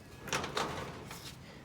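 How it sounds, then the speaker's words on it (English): A sliding door on an Outsunny 11 by 9 foot steel garden shed scrapes along its track in two or three short rasping pulls. The sound is soft and a little distant over background noise. "But the sliding doors, these are sliding doors."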